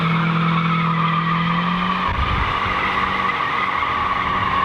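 A Mazda Miata's tires squeal loudly and continuously as it is driven in circles, with engine noise underneath and a harsh scrubbing surge partway through.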